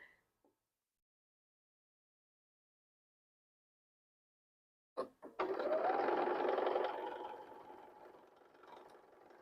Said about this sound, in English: After I sew this seam,